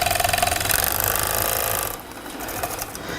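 A 3/8-inch mock safety overlocker sewing machine stitches the center front seam of a top, running with a fast steady mechanical whir that stops about two seconds in, leaving quieter handling noise.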